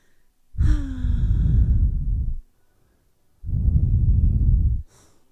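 Two long, slow exhales during a relaxing yoga session, close and breathy, each lasting about two seconds and separated by a quiet pause.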